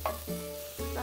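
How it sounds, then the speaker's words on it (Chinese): Mushrooms are stir-fried in a pan, giving a brief, soft sizzle with a couple of quick tossing or scraping sounds over a low background hum. "翻炒羊菇上色，要炒到羊菇出水"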